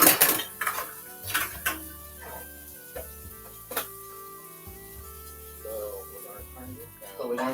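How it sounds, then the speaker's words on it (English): Metal utensil scraping and clinking against a pan while butter garlic chicken and bow tie pasta are mixed, with irregular close clatters and a faint steady tone in the background. "So we're going to continue to mix this all together."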